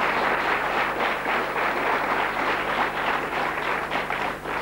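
A crowd applauds steadily throughout, a dense wash of many hands clapping at an even, sustained level with no break.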